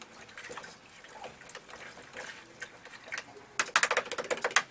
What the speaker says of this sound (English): Let's rinse this brush off.